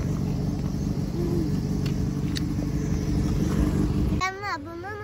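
A car passing on a road near a garden, a steady engine rumble building and then fading out, with children talking and playing close by over it.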